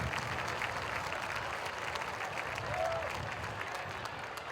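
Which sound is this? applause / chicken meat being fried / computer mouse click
applause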